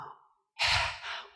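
A preacher's voice imitating the heavy panting of a thirsty deer searching for a stream: a soft exhale, a brief silence, then one loud, breathy gasp that trails off.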